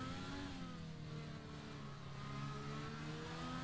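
Race car from a PC racing sim at the Hungarian Grand Prix, starting a timed lap; one engine holds a steady high drone with shifting pitch, fairly faint and alone.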